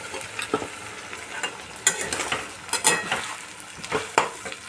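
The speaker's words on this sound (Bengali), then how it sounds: "আলুগুলো হাফের বেশি ভাজা হয়ে গেছে এবার আমি ধনে সর্ষে আর পোস্ত একসাথে রেখেছিলাম ওই মশলাটা আমি" Potato pieces frying in a pan as a mixed coriander, mustard and poppy seed spice paste is added, with a steady sizzle broken by scraping stirs and clinks of a spoon against the pan.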